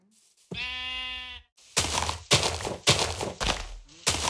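A single sheep bleat in a video game, a clear wavering cry of about one second, followed by several loud, sharp thumping impacts in quick succession.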